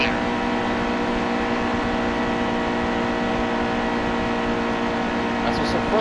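Constant roar of NASCAR stock car engines in the NASCAR Heat 2 racing game, a dense sustained drone with layered harmonic whine that holds steady throughout without lifting, under a voice talking over the racing.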